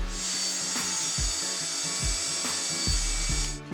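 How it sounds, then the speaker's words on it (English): Power saw blade running through wood with the veneer grain while building a studio desk; a steady close whine with a smooth continuous cutting rasp and faint rhythmic thumps underneath, no talk. "That was a lot smoother cut because we're going with the veneer of the wood."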